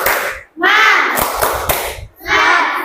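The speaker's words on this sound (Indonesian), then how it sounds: "Ayo, kita tepuk semangat lagi, ayo." A classroom of students performs a rhythmic spirit clap (tepuk semangat) in bursts of clapping and shouted voices, loud and close, separated by short pauses.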